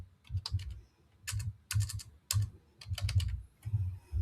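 Rapid typing on a computer keyboard entering a search term, bursts of clicky keystrokes in several quick runs with short pauses between, close and clear with no talking.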